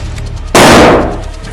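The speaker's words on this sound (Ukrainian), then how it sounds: "Граната!" A grenade goes off during military training: one loud, sharp blast with a sudden onset that rolls off over about half a second, with no talking around it.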